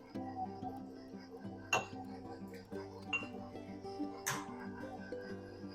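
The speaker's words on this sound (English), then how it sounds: "While I crack 2 eggs." Two eggs cracked against a glass bowl for a loaf cake batter, giving sharp clinks about a second apart over a steady low mixer hum in a kitchen.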